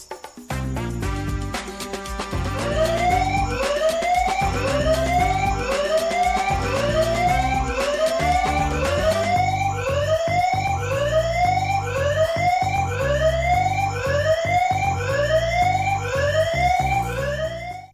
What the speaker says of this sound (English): you can allow the camera to alert using an audible alarm when an event is detected